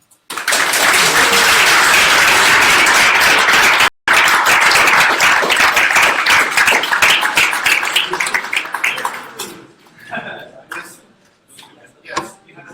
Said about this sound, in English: You can give yourself a big round of applause.